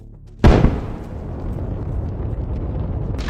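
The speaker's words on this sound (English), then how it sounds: "How perfectly the operator drops a grenade into this Russian piece of junk." A grenade dropped by an FPV drone explodes on an abandoned Russian APC, one sharp loud blast followed by a long rumbling tail of burning and debris, heard alone.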